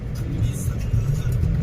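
Road traffic with cars and small auto-rickshaws rumbles close by in a steady, dense engine drone, a continuous low roar with slight rises as vehicles move past.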